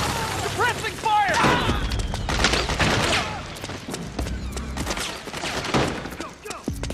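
Rapid gunfire and explosions fill a Metal Gear Solid 4 battle on PlayStation 3, with loud overlapping bursts and shouting voices throughout.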